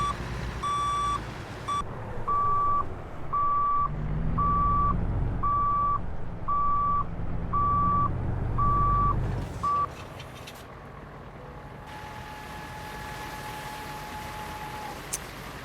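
A truck's old-style reversing beeper sounds a steady run of about ten evenly spaced, shrill beeps over a rumbling diesel engine, then stops as the engine noise drops and a faint tone lingers.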